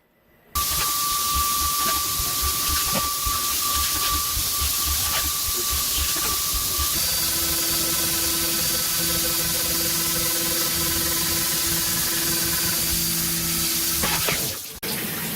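A CNC machine mills and drills a hydro handbrake bracket, giving a loud, steady hiss with a high whine. The tone shifts partway through, carries on evenly, then cuts off near the end.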